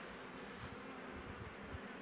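Local honeybees hum steadily around a hive, a faint, unbroken buzzing swarm heard up close without speech.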